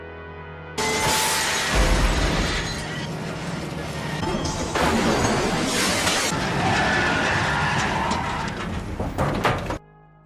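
A movie scene of a train crashing through a construction site, with loud, sustained crashing, smashing and shattering debris, heavy metallic impacts and rumbling that runs for several seconds before cutting off abruptly.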